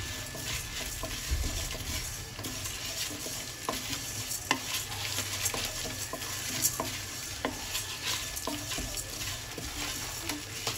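Bitter gourd fry being stirred in a pan, a steady low sizzle with repeated soft scraping strokes of the spatula throughout, fairly quiet and with no voices.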